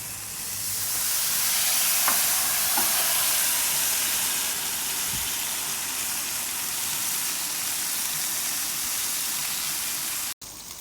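Burger buns toast on a hot griddle for smash burgers, giving a steady, close hiss and sizzle that holds for the whole stretch, with a few faint clicks and knocks and no talk.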